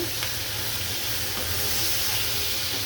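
Shrimp and green chillies frying in a hot pan give a loud, continuous sizzle with a bright hiss and faint spatters, heard close up without any voices.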